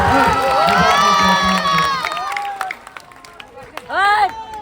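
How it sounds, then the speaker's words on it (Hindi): A crowd at a political public rally cheers and shouts, with loud overlapping voices and some clapping that swell, dip and then rise again in a final burst. "मैं चाहता हूँ एक बार जोरदार ताली आप लोग इंदिरा जी के लिए"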